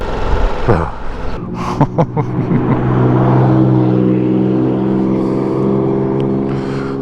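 A Lamborghini Diablo engine revs up with loud induction noise, a rising, throaty roar that settles into a strong sustained drone after a few brief blips and knocks, with a voice heard briefly over it.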